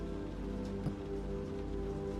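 Steady rain falling on a surface, a continuous dense patter holding even throughout with no voices, a soft broadband wash close by.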